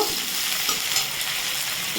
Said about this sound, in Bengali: এখন পাঁচ ফোড়ন দিয়ে পেঁয়াজটাকে একটু ভেজে নেব